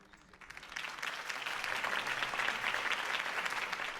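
A crowd in the Batman Telltale Series video game applauds Harvey Dent's campaign speech, the clapping swelling from quiet into a sustained, fairly distant roar of many hands.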